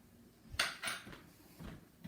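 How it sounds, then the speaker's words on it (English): Soft knife taps on a cutting board while strawberries are chopped for homemade jam, a few quiet cuts spaced about a quarter second apart. "And now we start to chop the strawberry."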